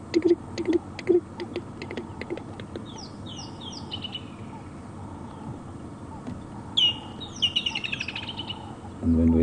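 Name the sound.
rattling cisticola and kingfisher calls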